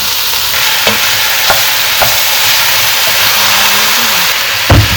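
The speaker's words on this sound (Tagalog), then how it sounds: "Gisa lang natin ito." Turkey pieces sautéing in a hot pan for a Filipino dish, giving a steady sizzle with intermittent stirring clatter and spoon knocks, close and fairly loud, no talking.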